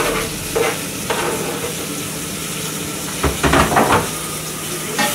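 Sliced ripe banana sizzles and fries in a pan with an onion mixture, giving a steady hiss broken by short stirring scrapes from a utensil against the pan.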